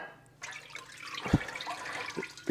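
Turkey brine gushes and drains with a sudden swell of running, splashing liquid, close and moderately loud over a couple of seconds, with a few heavier sloshes and no talk.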